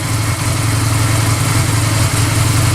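A motorcycle engine runs at a steady, loud idle close by while put into first gear with the side stand down, a constant throbbing rumble holding with only a slight dip near the end.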